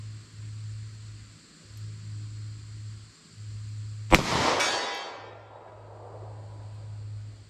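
A single sharp gunshot from a .38 Special +P revolver with a 2-inch barrel firing a 158 gr LSWC-HP load cracks loudly and rings out, set against a steady low hum.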